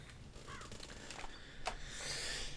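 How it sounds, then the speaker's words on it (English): Crows cawing outdoors in a game world, a few distinct caws over a soft ambient wash of other bird calls, moderately distant. "Let me go somewhere where there aren't bird sounds all the time."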